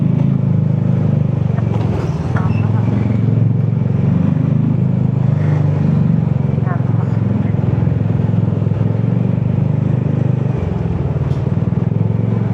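A Yamaha TMAX motorcycle hums steadily while being ridden, a constant low drone with a faint rattle and slight shifts in pitch, loud and close and continuing without a break.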